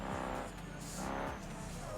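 A revving truck engine in the BeamNG.drive driving game, modded for drifting, rising and falling in pitch as gears shift, with faint tire squeals, steady and close, no talking.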